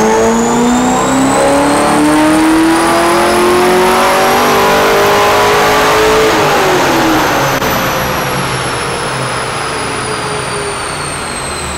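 A Reher Morrison LS7 V8 in a Corvette Z06 pulling on a dyno: loud, close engine revving steadily upward through the gears in one long pull, then easing off as the revs fall away.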